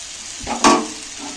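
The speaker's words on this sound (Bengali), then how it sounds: "এইভাবে চাপা দিয়ে দিয়ে ভাজবো।" Vegetables, pumpkin among them, sizzle in a hot pan as they are pressed down, with a brief burst of frying hiss and a scrape midway through the short moment.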